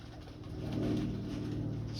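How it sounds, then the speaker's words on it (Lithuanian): Baku pigeons flying in to a loft cooing. Low, soft, continuous throaty coos sound fairly close, with a faint rumble of background noise and no speech. "Čia kur Valdas visada dangų randa su savo paukščiais"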